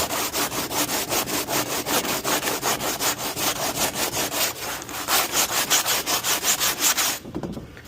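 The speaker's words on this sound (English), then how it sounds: "So you just want to sand down as much as possible to get it like smooth, and then fill in the rest." Filler on a cracked fiberglass wing of a Nissan 370Z is sanded by hand in rapid, rhythmic back-and-forth strokes, loud and close, ending abruptly.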